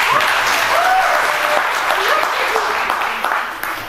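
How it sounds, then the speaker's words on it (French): Dense audience applause from a large stadium crowd fills the whole stretch, steady and loud, with scattered voices calling out through it before it begins to thin toward the end. "On applaudit, s'il vous plaît."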